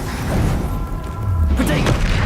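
Dense, booming spell blasts from Confringo and Bombarda in Hogwarts Legacy, continuous heavy rumble and thuds under busy game effects and speech over a couple of seconds.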